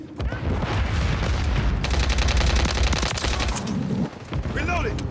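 Video game firefight in a Domination match: rapid machine-gun bursts and overlapping shots fill the clip, with distant booms and shouted voices mixed in over constant battle noise.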